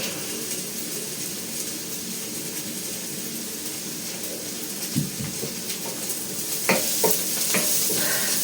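Curry leaves and fennel seeds go into hot oil with softened onion for a fish curry, a steady sizzle giving way to sharp crackling bursts and stirring clatter toward the end.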